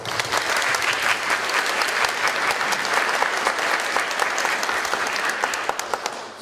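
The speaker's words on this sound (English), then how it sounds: "So give yourself a round of applause." Attendees at a Tzu Chi USA English retreat giving a round of applause, loud, dense clapping sustained steadily and tapering slightly at the end.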